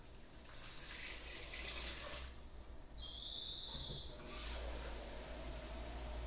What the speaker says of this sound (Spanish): Ahora le voy a echar agua. Agua del grifo